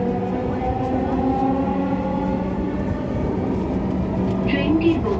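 Dhaka metro rail train bound for Uttara North running along the line, a loud steady rumble and hum heard from inside the carriage, with a few faint higher tones near the end.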